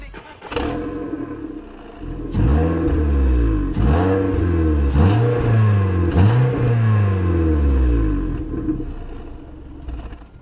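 A Seat Leon fitted with a new sport exhaust, a larger, freer-flowing multi-chamber silencer, revs up several times in a row, each loud blip rising and falling in pitch over a steady idle, with no talking.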